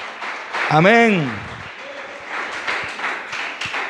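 Church congregation applauding at an evening worship service, a broad wash of clapping with a sung or shouted voice rising over it early on, then steady applause continuing under scattered voices.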